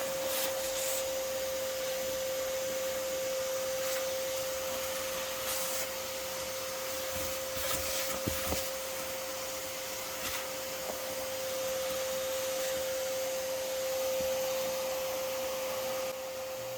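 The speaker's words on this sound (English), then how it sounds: "sitting here and vacuuming up wasps" A vacuum cleaner runs steadily with a constant high whine and airy roar, broken by a few faint clicks and rattles as yellow jacket wasps are sucked in.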